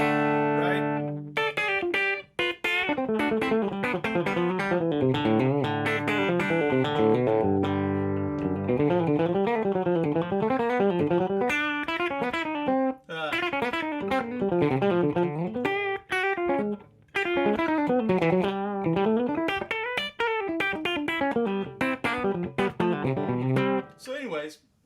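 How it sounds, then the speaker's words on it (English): An electric guitar plays a long run of notes and chords through a Sir effects pedal, with a slight boost and distortion, steady and close with short pauses between phrases. "I'm going to step on the Sir pedal."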